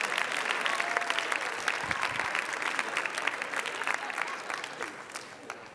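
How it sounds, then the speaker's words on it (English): An audience bursts into dense, sustained applause, loud and close at first and gradually thinning out toward the end. "Everybody, give Ben a round of applause."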